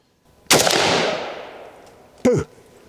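A single small-bore KBKS rifle shot cracks loudly at a shooting range and rings out into a long fading echo, followed by a short, sharp secondary sound about two seconds later.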